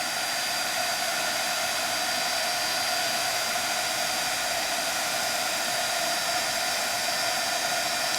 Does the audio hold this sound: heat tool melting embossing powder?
yes